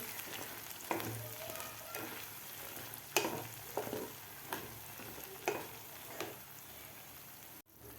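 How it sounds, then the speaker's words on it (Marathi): Paneer masala being sautéed in a pan, stirred for a few minutes: a steady low sizzle with repeated scraping stir strokes at irregular intervals, close and moderately loud, with no one speaking. "दोन ते तीन मिनिटच आपल्याला हा मसाला परतून घ्यायचा आहे"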